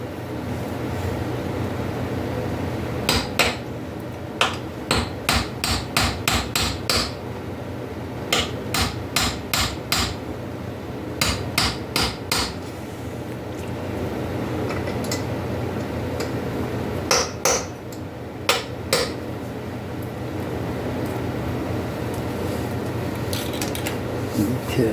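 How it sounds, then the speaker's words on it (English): Steel hammer strikes a punch against fold-over tabs on a nut on the rear end of a barn-find Yamaha Virago motorcycle, sharp metallic taps in quick clustered bursts with pauses, close and loud over a low hum. "we're going to take a hammer and a punch, just like that. And we're going to knock them up off of there"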